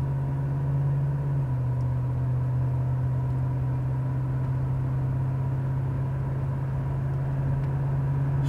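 A 1984 GMC Caballero cruises along the road at around 55 to 60 mph with a steady low engine drone and tire rumble, the pitch shifting slightly early on as the transmission shifts.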